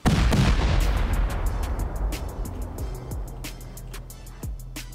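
In a Rust raid, C4 charges detonate in the video game with a loud opening boom, followed by a rapid run of sharp bangs and cracks that keeps going throughout.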